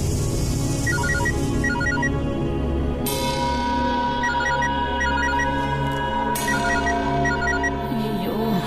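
A telephone rings in a domestic setting with repeated electronic trilling bursts in a steady pattern over a constant background hum, loud and near, with no talking during the ringing.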